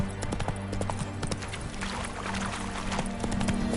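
Hooves clip-clop steadily as a horse walks in The Witcher 3: Wild Hunt, with close, rhythmic sharp knocks over low ambient game sound and no talk.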